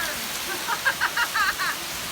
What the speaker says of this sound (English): Well, we've been rained out.